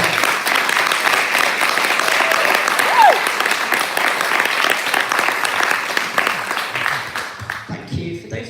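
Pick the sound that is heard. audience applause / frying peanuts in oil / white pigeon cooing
audience applause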